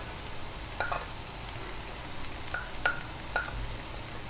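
Finely chopped onions and carrots sauté in a pan for a lemon coriander soup, a faint, steady sizzle broken by a few soft clinks and stirring sounds.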